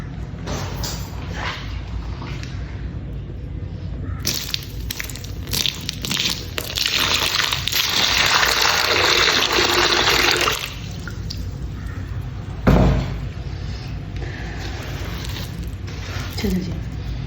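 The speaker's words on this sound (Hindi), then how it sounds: "अब इसकी करते हैं थोड़ी सी पाउरिंग और वाटर क्रम्बलिंग।" Water pours onto milky white chalk stone as it crumbles and softens, a continuous wet crunching and trickling that grows into a denser fizzing rush in the middle, then eases back to quieter crackles.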